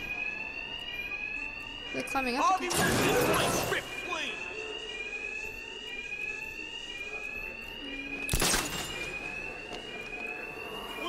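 Alarms blare in Batman Arkham Knight, a steady repeating electronic tone running throughout at moderate level, with loud impact bursts and game voices over it.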